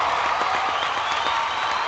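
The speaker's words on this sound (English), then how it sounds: "Give yourselves a massive round of applause." Young children in a KS1 class give a round of applause, a dense burst of many small hands clapping together, fairly close, with faint crowd noise beneath.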